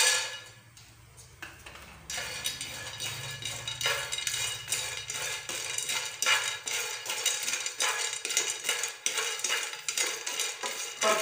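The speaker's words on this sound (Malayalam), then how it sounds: "ആദ്യമായിട്ട് കപ്പലണ്ടി നമുക്ക് ഒന്ന് വറുത്തെടുക്കാം" Peanuts dry-roasting in a pan, stirred steadily so the nuts rattle and scrape against the metal in a continuous, fairly loud run with no talking.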